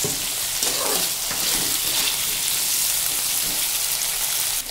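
Vegetables frying in hot oil with panch phoron and salt, a loud, steady, close hiss and crackle of sizzling that continues throughout.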